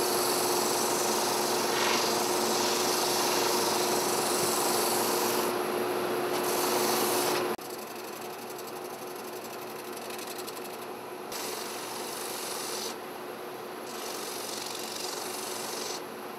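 Abrasive paper rubs steadily over leather, working from coarse grit toward fine finishing grit in a leather workshop; a continuous close-up scraping hiss, loud and dense for the first several seconds, then slightly softer with brief pauses.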